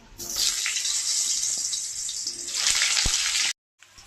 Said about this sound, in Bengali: তেলটা গরম হয়ে গেছে, এখন আলুটা ভেজে নিচ্ছি।